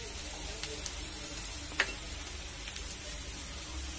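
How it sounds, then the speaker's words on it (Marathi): Ginger-garlic paste, red chili powder and turmeric fry in hot oil, giving a soft, steady sizzle throughout with a few faint stirring clicks, close and quiet with no one speaking. "आता हे सगळं पुन्हा असं थोडंसं फ्राय करून घ्यायचं"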